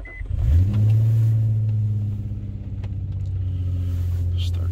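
A car engine cranks and catches after a locksmith programs a new key, then settles into a steady, loud idle rumble close by, with no talking over it.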